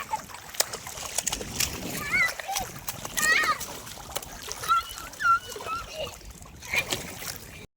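People bathing in river water make irregular splashes and sloshes nearby, with children's and adults' voices talking and calling over the water.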